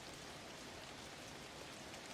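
Rain falls in a steady, soft hiss of dense drops, evenly spread and faint, with no voices.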